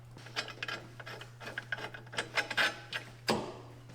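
A hand ratchet works bolts loose on a Porsche Cayenne, making quiet, uneven bursts of rapid clicking that come and go in short strokes.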